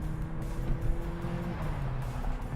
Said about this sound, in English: this car has a very nice exhaust on it. And we're about to all experience that.